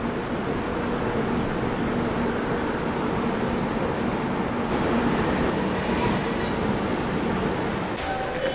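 Mumbai-Howrah AC Duronto express train running at speed while overtaking the South Bihar Express, with a steady loud rumble of rolling stock and faint rhythmic rail clatter throughout.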